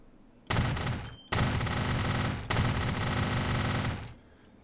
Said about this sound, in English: Why does it sound like a machine gun when I do that?